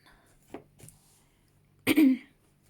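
Two faint throat sounds, then one short, forceful throat clear close to the microphone.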